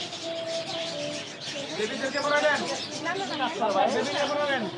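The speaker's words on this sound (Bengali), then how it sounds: "অনেক পাখি আছে ওদের এখানে" Many small birds chirp and tweet continuously close by, with people talking over the chatter.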